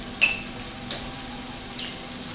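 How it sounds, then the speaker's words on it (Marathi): Onion frying in a pan with a little salt, a soft continuous sizzle broken by three brief scrapes or clicks spaced out over a couple of seconds, no speech. "आता कांदा लवकर भाजत नाही त्याच्यासाठी आपण काय करायचं थोडंसं मीठ आता टाकायचं याच्यामध्ये म्हणजे कांदा चटकन भाजला जाईल"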